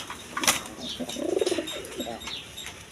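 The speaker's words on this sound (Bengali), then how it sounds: "এখানে দুইটা রেশার কবুতর আছে" A pair of white-beaked Bombay pigeons, a male and a female, coo softly in a short rolling phrase at close range, with a brief flutter or scuffle before it and faint background noise around.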